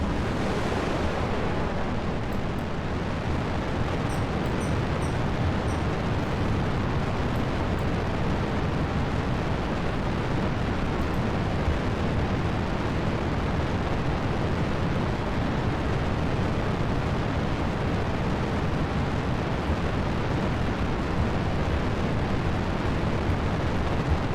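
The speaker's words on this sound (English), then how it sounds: "Oh, the rocket is being unstable." Rocket engine roaring through a launch in Kerbal Space Program, a dense, continuous broadband rumble with a sharp onset that holds loud and steady throughout, like a thick wall of noise.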